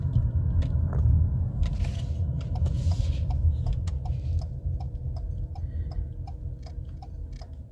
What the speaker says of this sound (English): that's that typical Ford turn signal